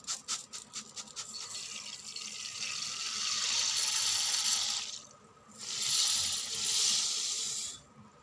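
Running water splashes steadily into a bowl of rice being washed, with some clicking and stirring at first, pausing briefly before the flow resumes, close and fairly loud.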